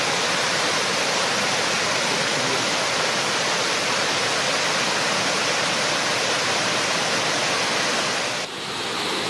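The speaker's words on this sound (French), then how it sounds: "on arrive à la grande cascade" The large waterfall at Cirque de Saint-Même roars as a dense, constant wall of rushing water, close and loud throughout with no pauses.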